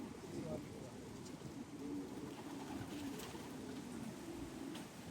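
Soft cooing of racing pigeons arriving at the end of a race in strong wind, mixed with low murmuring and background noise, faint and somewhat distant, with a voice talking quietly underneath.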